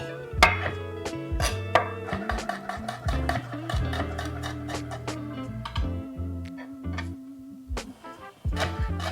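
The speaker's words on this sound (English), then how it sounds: "Chop up this chili as well." A knife chops a chili on a cutting board in a home kitchen, giving a quick run of sharp, close taps with short pauses and a few heavier knocks in between.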